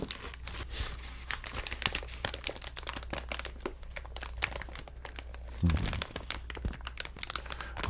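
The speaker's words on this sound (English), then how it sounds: "crinkling, crinkling." Crinkly material is handled close to the microphone for ASMR, giving dense, irregular crackles and crunches throughout, with a louder crumple near the end.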